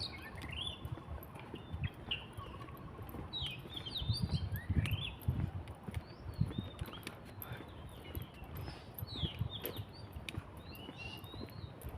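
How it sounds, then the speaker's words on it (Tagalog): Several birds chirp and trill outdoors in a park, scattered calls at moderate distance over a soft background rustle and patter. "Huni ng mga ibon"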